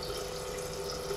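Tap water runs in a steady, continuous stream, heard close and unbroken throughout with no talking.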